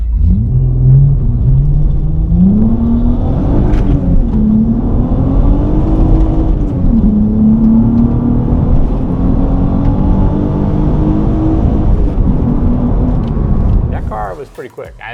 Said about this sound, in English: That car was pretty quick.